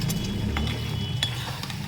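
Flat beans and potato curry being stirred in a pan, a soft low sizzle with a few faint utensil clinks against the pan, close and quiet, no talking.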